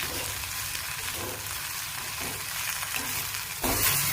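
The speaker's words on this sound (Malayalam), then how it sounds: "നമുക്കതിലേക്ക് മുരിങ്ങയില ചേർത്ത് കൊടുക്കാം മുരിങ്ങലിൻ്റെ ആ ഒരു പച്ച ടേസ്റ്റ് പോകുന്നവരൊന്ന് വഴറ്റിയെടുക്കാം" Drumstick leaves sauté in a pan, a loud, dense frying hiss with soft stirring movements, growing briefly louder at the end, heard up close with nobody talking.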